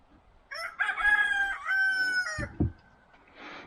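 A rooster crows loudly and close, a long drawn-out cock-a-doodle-doo, followed by a couple of short clucks and some faint rustling.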